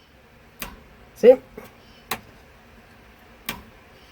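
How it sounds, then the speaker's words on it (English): Sharp, dry clicks from a line lock under the hood of a stick-shift 1967 GMC C1500 pickup come three times at uneven intervals, with a brief spoken word between the first two. "You might be able to hear the clicking of the line lock under the hood"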